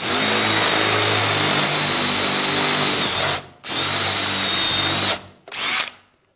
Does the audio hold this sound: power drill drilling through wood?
yes